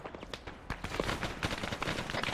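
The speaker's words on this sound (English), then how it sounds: "there's fucking enemy fire coming this way" Rapid gunfire in the military shooter game Arma 3, a dense chatter of shots and distant bursts, quiet and continuous with overlapping rounds.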